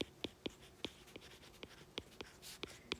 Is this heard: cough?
no